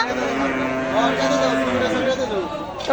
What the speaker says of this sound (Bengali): এই দেখেন বিশাল সাইজের গরু চলে আসছে।